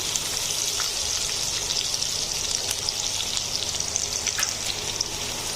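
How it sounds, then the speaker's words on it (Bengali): Chopped ginger and four cloves of roughly cut garlic fry in a pan until brown, giving a steady, even sizzle from start to finish with no talking. "এবার আমি আদা এবং রসুনটা ব্রাউন কালার করে ভেজে নেব।"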